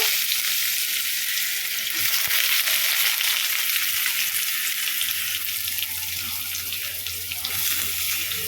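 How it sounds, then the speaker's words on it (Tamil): Finely chopped onions fry in hot oil with a loud, dense, unbroken hiss, close to the mic, for a quick egg chukka, without any talking. "நல்லா ஃப்ரை பண்ணி விட்டுக்கலாம் வெங்காயம் பொரிஞ்சுக்கிட்டு இருக்கும் போதே கொஞ்சம் உப்பு சேர்த்துக்கலாம்"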